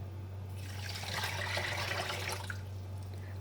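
Leftover water is poured into a cooking pot holding tamarind and dried plum pulp for sharbat, a brief close splashing gush lasting a couple of seconds over a low steady hum.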